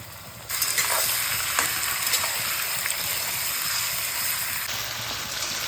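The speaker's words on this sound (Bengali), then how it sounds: "এইটাই পেঁয়াজের সঙ্গে একটু ভেজে নেব চিকেনের কাঁচা গন্ধটা কাটানোর জন্য" Marinated chicken and onion fry in a pan with a loud, steady sizzle and crackle, stirred now and then, the frying close and continuous with no talking.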